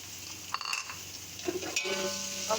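Two tablespoons of chopped garlic and ginger sizzle with onion in a pot, a soft frying hiss broken by a few stirring scrapes, close and brief, with no one speaking.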